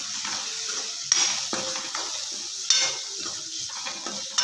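Capsicum curry being mixed in a pan with chilli powder, a spoon scraping and clinking against the pan in several distinct strokes over a soft background sizzle, no speech.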